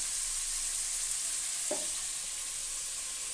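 Chopped onion frying in a pan on a stove turned to high flame for capsicum gravy, a faint steady sizzle with one brief stir or clink partway through and no voices.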